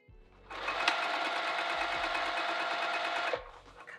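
A sewing machine stitches a handbag at a 3 stitch length, running in one steady close burst of about three seconds between quieter pauses.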